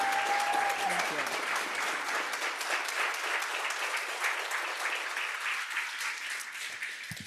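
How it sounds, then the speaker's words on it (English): Applause from the audience at a Santa Rosa Junior College board meeting, sustained, moderately close clapping that rises at once, holds steady for several seconds, then begins to thin near the end, with a brief voice at the very start. "I would like to take a moment for a round of applause"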